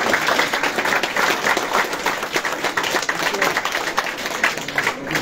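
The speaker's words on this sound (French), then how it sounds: "Qu'on les applaudisse là." A crowd at a mosque inauguration in Marseille claps for volunteers in a loud, dense, sustained burst of applause with some scattered voices mixed in, the clapping steady throughout.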